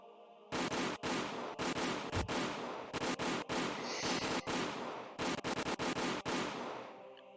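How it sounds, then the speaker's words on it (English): Automatic gunfire from soldiers shooting escapees in the Higurashi When They Cry visual novel, with loud, sustained bursts of rapid shots broken by brief pauses, close and dense throughout. "The soldiers shot the people who tried to escape in the back. The sound of the gunshots echoed in the silence."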